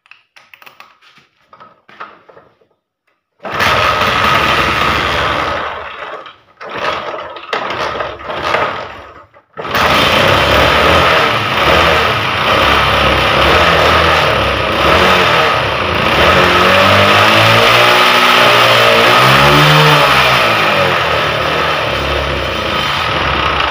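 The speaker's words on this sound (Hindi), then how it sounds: "इसको बाइक को स्टार्ट करके भी देख लेते हैं कि बाइक स्टार्ट हो रहा है कि नहीं हो रहा।" A 1982 Honda CD-70 motorcycle with a starting fault is cranked with a few brief bursts, then fires and runs loudly and close, revving up and down for about fifteen seconds.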